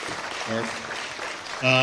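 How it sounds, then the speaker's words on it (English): An audience applauds seminar panelists at a New York Chinese community event on the CCP threat, with steady clapping running under a voice that talks over it near the start and again at the end. "let's hear a good round of applause for all of our panelists, Mila, and everyone else."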